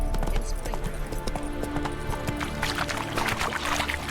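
Roach, a horse in The Witcher 3 video game, clip-clops along at a steady walking pace. The hoofbeats are moderately close and rhythmic, and they grow denser and brighter in the second half over a low ambient background.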